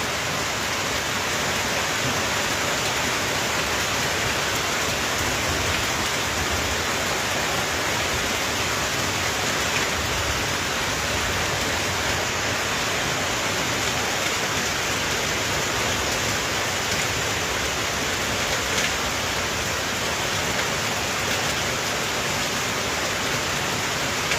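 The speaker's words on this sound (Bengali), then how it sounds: "যে বৃষ্টি শুরু হয়েছে মুসলধারে বৃষ্টি" A heavy downpour drenches a village, making a dense, steady roar of rain that holds at an even loudness for the whole stretch, with no voices over it.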